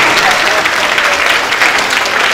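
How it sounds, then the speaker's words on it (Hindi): A crowd applauds steadily and loudly for a councillor at a Gandhi Jayanti programme, dense clapping filling the whole stretch with no pause. "पुरजोर तालियों से उनका इस्तकबाल करें"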